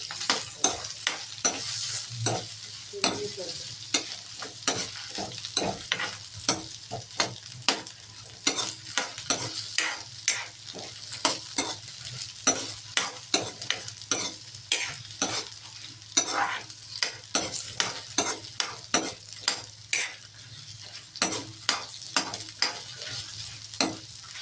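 Onions fry in hot oil for black-eyed pea sambar while a spoon stirs them, giving a soft continuous sizzle broken by frequent rhythmic scraping strokes against the pan, close and without speech.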